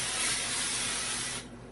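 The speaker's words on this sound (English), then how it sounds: "I'll just come across and I'll just spray in a circular motion" A spray gun hisses steadily as it sprays texture over a drywall hole repair, a loud continuous burst that cuts off sharply near the end, leaving a quieter hiss.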